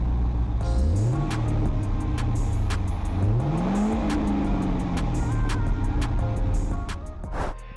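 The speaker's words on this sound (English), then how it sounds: "And the stock exhaust actually sounds pretty mean." A Cadillac CTS-V V8 with stock exhaust revs hard twice, pitch sweeping up and falling back with a deep, rumbling exhaust growl, loud and close, then settling to a throaty idle.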